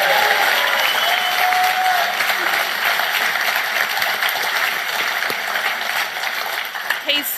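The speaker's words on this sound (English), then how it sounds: "let's give him a loud round of applause so he can hear you" A crowd at a Queensland Labor conference gives a sustained round of loud applause, dense steady clapping filling the hall throughout with faint voices mixed in.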